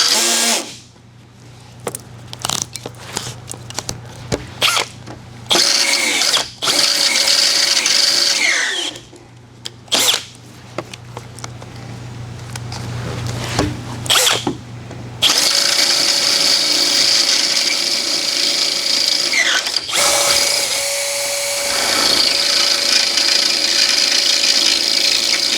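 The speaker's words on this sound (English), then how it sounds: "it burned out my 8mm drill bit, so I've switched to a split point bit" A power drill whines in repeated bursts, starting and stopping several times, with a grinding bite as a split point bit enlarges holes in a metal excavator mirror bracket, close and loud.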